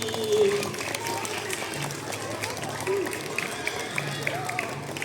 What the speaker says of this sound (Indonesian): Beri tepuk tangan untuk Ustadz Adi.